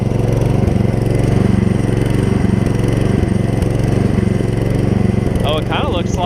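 A Gravely 16 professional walk-behind lawn mower engine runs steadily at a constant, loud idle, its pulsing drone filling the scene alone with no pauses.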